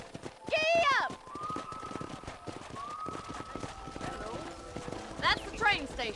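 A horse gallops in the Western video game Red Dead Redemption, rapid rhythmic hoofbeats running steadily throughout, with a sharp whinny at the start and more near the end, and people talking over the hooves.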